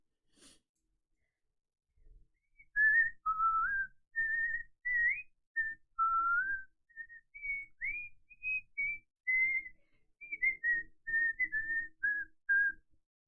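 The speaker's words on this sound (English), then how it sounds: "Does my whistling sound okay when I whistle into my mic?" Someone whistles a slow, wandering tune close to a microphone, clear single notes in short phrases with breaths and small pauses between them.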